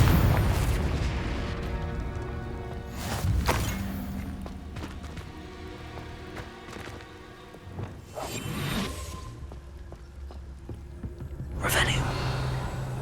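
A Confringo fire spell explodes in Hogwarts Legacy, giving a rushing whoosh and booming bursts that come in several surges over a crackling background, with a character's voice faintly heard between blasts.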